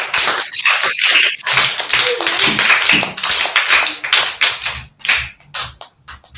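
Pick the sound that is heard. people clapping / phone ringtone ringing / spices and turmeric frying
people clapping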